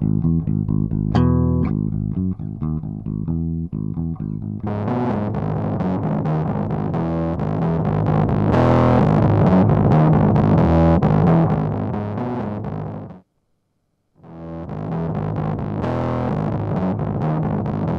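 Bass guitar riff played through a TC Electronic effects pedal, a distorted, effected tone with a steady rhythmic line that swells louder midway, cuts out briefly near the end, then resumes alone.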